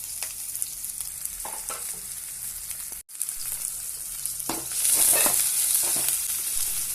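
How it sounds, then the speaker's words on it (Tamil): Two garlic cloves and curry leaves fry in hot oil with a steady sizzle, stirred now and then; a brief gap midway, then the sizzling swells louder and brighter toward the end. "லேசாக 2 பல் பூண்டு கருவேப்பிலை போட்டு வணக்கிங்க"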